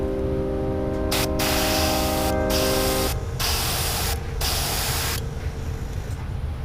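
Airbrush spraying gold paint onto a Wiggle Wart fishing lure: several bursts of steady hissing spray separated by short pauses, close and fairly loud, over a constant compressor hum, no talking.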